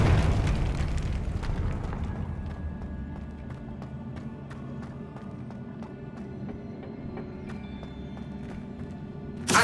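A Confringo explosive spell detonates in the video game Hogwarts Legacy, a loud booming blast at the start with a long rumbling decay scattered with clattering impacts and steps, and another sharp hit right at the end.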